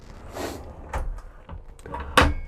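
A large drawer in an Altea 432 PX caravan slides open and shut, giving several close, sharp wooden knocks and rattles.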